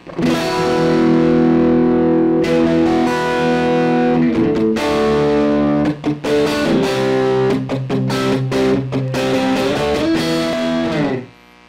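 Electric guitar played through the Mr. Smith Distortion effect on an M-VAVE Cube Baby amp, a loud, heavily saturated gritty tone with sustained chords and quick strummed stabs, continuous for about eleven seconds with a brief break near the middle.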